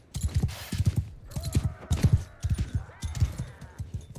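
Horses gallop across open ground in the medieval battle game Mount and Blade Bannerlord, a rapid rhythmic clatter of many hooves with faint shouts and clashing over it.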